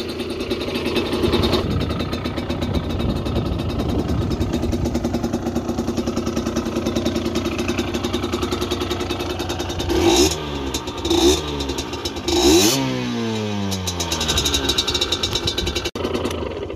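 A Derbi Senda 50cc dirt bike engine idling with a buzzy two-stroke rattle, then revved in several sharp rising blips close by before settling back to idle.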